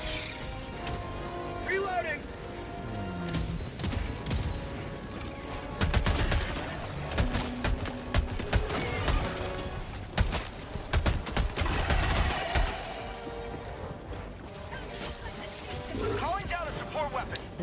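Sentry turret gunfire in a shooter video game: sustained loud bursts of rapid automatic fire and heavy blasts, continuous over a busy mix of game effects, with a voice speaking over it.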